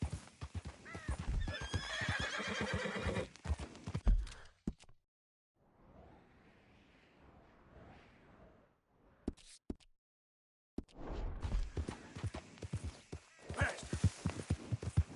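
A horse in Red Dead Redemption 2 gallops in rhythmic clip-clop hoofbeats and neighs loudly. The galloping drops to near silence partway through, then resumes.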